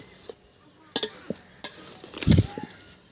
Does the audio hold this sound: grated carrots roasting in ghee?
yes